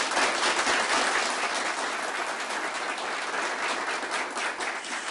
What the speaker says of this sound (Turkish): sizden kuvvetli bir alkışlıyorum belediye kurulu derneğine